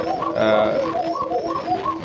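Koka pigeons at a farm give a steady run of repeated cooing calls, the notes rising and falling in a close, continuous rhythm with a faint murmur of other birds behind.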